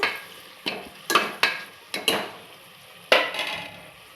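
Onions frying in a pan being stirred, heard as a series of distinct metallic scrapes and clinks from a spoon against the pan at an uneven rhythm over a faint background sizzle.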